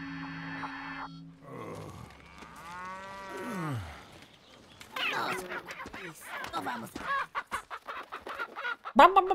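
A person imitates a clucking chicken with a rising, stretched vocal squawk followed by a run of choppy clucks and laughter, heard near and loud over quieter Resident Evil 4 game audio.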